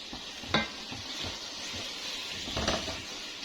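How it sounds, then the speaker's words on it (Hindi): Eggs stirred into a simmering potato gravy in a pan for aloo anday salan: a steady soft sizzle with two sharper spoon-scraping strokes, close and fairly quiet, no voices. "अंडे ऐड करके मिक्स करेंगे"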